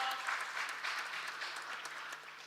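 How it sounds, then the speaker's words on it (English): Applause from a quiz-final audience, a steady patter of many hands clapping at moderate distance, fairly soft and continuous. "With 80, I think Saransh deserves a thunderous applause for finishing runner-up."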